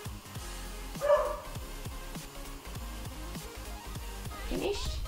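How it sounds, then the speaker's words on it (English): A small dog barks in short repeated yips through the clip, fairly near, over a steady low background hum. "can you hear my dog?"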